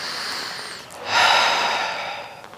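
A close, breathy exhale during a Pilates reformer exercise, a rushing breath that swells and fades after a quieter inhale, with no speech.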